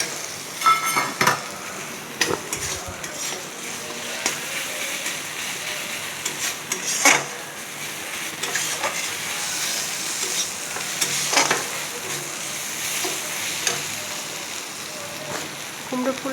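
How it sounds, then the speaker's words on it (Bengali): Pumpkin flowers with poppy seed paste fry in mustard oil on a gas stove, a lively sizzle broken by repeated scraping stirs and clinks of a utensil against the pan. "একটু গ্যাসটা জ্বলে দিয়ে একটু ভাজা ভাজা মতন করে নিয়ে নামিয়ে নেব"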